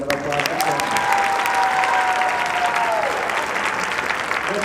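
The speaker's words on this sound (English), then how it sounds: "Give another round of applause for Jonah." Sustained audience applause at a high school band spring concert, steady and full for several seconds, with a sustained musical tone heard underneath partway through before it fades.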